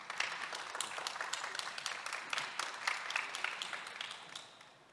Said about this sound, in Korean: 에릭 다이밀러 박사님께도 환영의 박수를 한번 부탁드리겠습니다